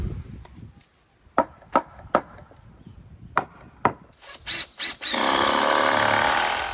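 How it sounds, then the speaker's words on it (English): Screws are driven into wood scraps while building a peafowl aviary: several sharp knocks and taps of handling wood, then a steady close whir of a power drill running for the last couple of seconds, with no talk. "I'm just putting in a few screws in these spots."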